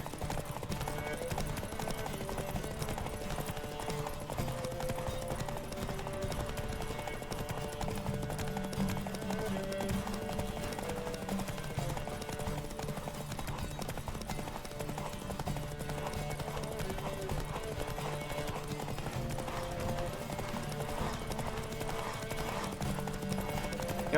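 Steady rhythmic clip-clop of a horse galloping in The Witcher 3 on PS5, continuous hoofbeats under game music and ambience, with occasional whinnies.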